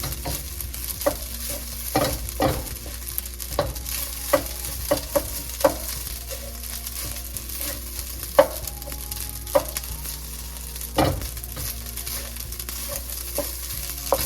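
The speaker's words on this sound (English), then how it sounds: "Okay, and then we just fry this together for a few minutes." Beef hibachi fried rice fries steadily in a pan, with a constant sizzle and a long run of repeated spatula clicks and scrapes as it is stirred.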